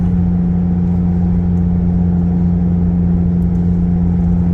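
A Honda Transalp motorcycle climbs a mountain road, its engine holding a steady, loud mid-pitched drone with constant wind and road rumble throughout, no talking.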